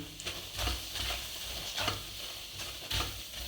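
Water chestnut flour roasts in ghee in a pan, giving a soft, close sizzle broken by several quiet scraping strokes of a spoon stirring it.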